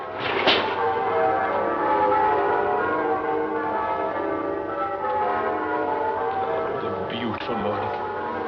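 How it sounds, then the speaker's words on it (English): Church bells ring on a Christmas morning, a dense, continuous peal of overlapping tones that stays loud throughout, with a voice briefly heard partway through. "The bells. The merry, merry bells."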